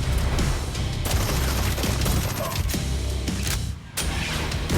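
Dense, continuous bursts of gunfire with heavy booms and crashes from a shooter video game trailer, loud and relentless throughout, briefly dropping near the end before resuming.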